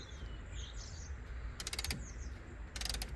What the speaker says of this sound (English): He's ratcheting it back nicely.